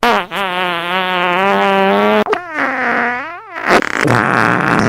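A long comedic fart sound effect, loud and tonal, stretching into a wavering, pitch-bending squeal before a short rough sputter at the end, heard alone without talk.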